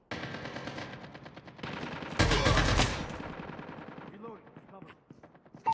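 Sentry gun firing in the video game Call of Duty: Mobile: a rapid, sustained stream of automatic gunfire that peaks in a loud burst midway, then fades under softer game sounds and brief radio-style voice lines.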